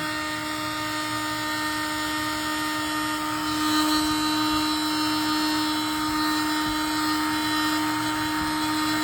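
A heat gun blowing hot air to melt down the wax of a tunneling candle, a steady, close, droning fan whine with a sustained tonal hum that stays level throughout.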